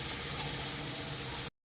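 Chopped onion frying in a pan for butter garlic paneer fried rice, giving a steady, dense sizzle that holds evenly close-up and then cuts off abruptly.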